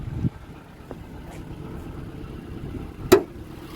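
A 2013 Toyota Camry Hybrid's 2.5-liter four-cylinder engine runs steadily with a low idle hum under the open hood, broken by a couple of brief sharp knocks.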